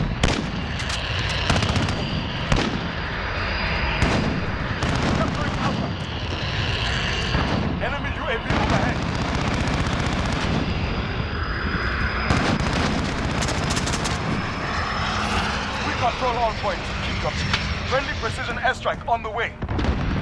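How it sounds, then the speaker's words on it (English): Artillery strike in Call of Duty: Modern Warfare, dense booming blasts and gunfire cracks layered with aircraft roar throughout, loud and continuous, with a voice talking over the battle din. "Enemy artillery be on right."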